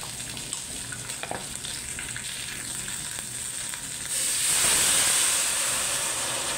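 Chicken with turmeric and black pepper powder sizzles in a pan, a quiet crackle that swells into a loud, steady hiss partway through, with no voices.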